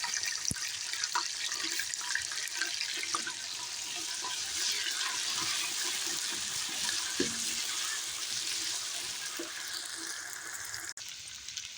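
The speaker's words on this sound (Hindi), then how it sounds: "अब इसमें सबसे पहले हम भून लेंगे अदरक लहसुन का पेस्ट।" Ginger garlic paste, two large spoonfuls, fries in a pan for aloo qeema, a steady soft sizzle with faint scraping of stirring, close but low, without talk.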